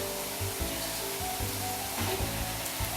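Ground meat and mushrooms sizzle in a pan with a steady close hiss, broken by soft intermittent scraping and stirring thumps.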